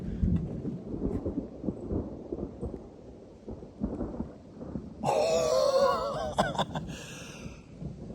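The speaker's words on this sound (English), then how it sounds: "Thunderstorms." Thunder rumbles during a thunderstorm at an off-grid log cabin site, low rolling booms through the first half, followed by a louder burst with higher crackling and animal-like vocal sounds toward the end.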